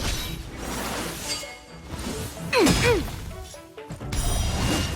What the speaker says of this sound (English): Rock-shattering slash!